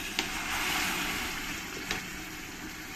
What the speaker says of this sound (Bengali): এবার আমি এই মশলার মধ্যে সামান্য একটু জল দিয়ে দেব।